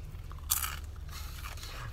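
A crunchy french fry is bitten and chewed close up inside a car, with a sharp crunch on the bite and softer chewing crunches after it over low road rumble.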